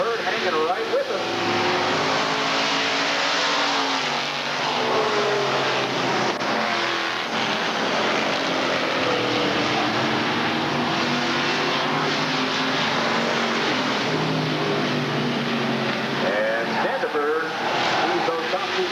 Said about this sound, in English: The 55 car jumps on that inside line, gets around Murray.